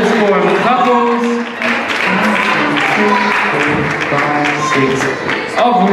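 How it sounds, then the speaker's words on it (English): Audience applause for ballroom dance couples at a competition, a dense continuous wash of clapping held at a steady level over the whole stretch, with music-like tones and voices mixed into the crowd noise. "Big round of applause for our fabulous ballroom couples."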